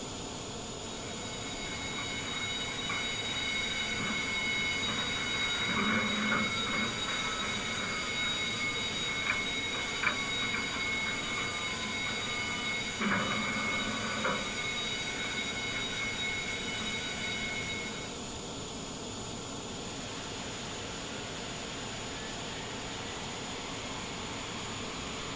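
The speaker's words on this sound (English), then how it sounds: "Go ahead and get our engine started." In Microsoft Flight Simulator 2020, a FlyByWire A320 engine spools up in a steady, loud whine with sustained high tones and a broad roar, running continuously before settling to a slightly lower, even hum.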